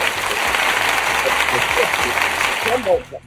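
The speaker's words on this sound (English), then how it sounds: "Let me give you two more applause" Sustained applause from a crowd fills the space, with a voice breaking in as the clapping dies down at the end.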